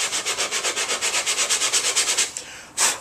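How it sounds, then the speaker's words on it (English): Sandpaper on a sanding block rasps in quick, even back-and-forth strokes along the edge of a wooden drawer divider, about seven strokes per second, close and loud, ending with a pause and one last longer scrape. "take a bit of sandpaper with a sanding block"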